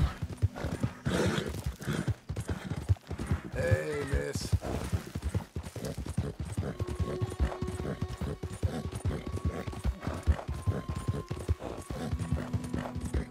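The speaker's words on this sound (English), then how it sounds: "This horse can fucking run. This is what I call a horse." Rapid hoofbeats of a horse galloping in the game Red Dead Redemption 2, a constant fast clip-clop with a brief whinny early on, loud and continuous throughout.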